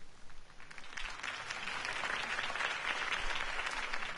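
A crowd applauds Harvey Dent's campaign speech in Batman: The Telltale Series, with a steady, dense wash of clapping at moderate distance, continuous and even throughout without speech.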